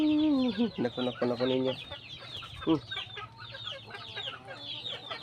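Farmyard chickens cluck and squawk close by in a burst of loud, overlapping calls, then fall to scattered softer clucks while a person says a few words.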